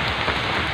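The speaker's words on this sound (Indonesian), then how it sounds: "ini hujan gerimis" Light drizzle falling in a forest, a dense, even patter of raindrops that holds steady and fairly loud through the whole brief moment, no talking.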